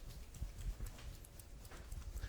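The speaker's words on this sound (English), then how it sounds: "you can hear the seasoning rattling around the outside of it" A whole duck sealed in a bag with salt and pepper is shaken, producing faint rhythmic thumps and rattling bursts in a steady repeating pattern.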